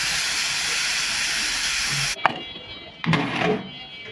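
Steam hissing loudly and steadily from a pressure cooker used to boil taro for a hilsa fish curry, cut off abruptly as the whistle is lifted, followed by a brief clank and a second short burst of hissing.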